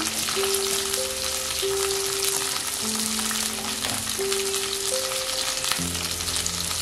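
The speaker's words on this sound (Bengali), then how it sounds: "এবার সবজিগুলোকে খুব ভালো করে ভেজে নেব।" Potatoes, pumpkin, carrots and beans fry in a pan with salt and turmeric, giving a steady close sizzle with faint crackles and no voices.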